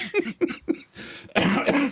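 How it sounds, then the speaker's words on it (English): Several short, sharp coughs in quick succession, close and fairly soft, followed by a rougher, louder burst of coughing or throat noise. "Still got the cough"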